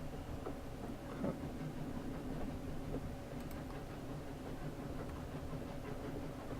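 A train runs in the video game 80 Days. It makes a quiet, steady mechanical rumble with faint rhythmic clicks, heard low and even throughout, with no voices on top.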